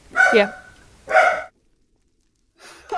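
Two sharp dog barks close by, a brief silence, then another bark starting at the end.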